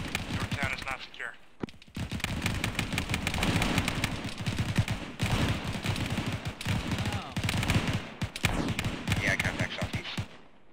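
Dense gunfire crackles close and loud in rapid bursts and overlapping shots almost without pause during a jungle firefight, with brief gaps and shouting voices mixed in.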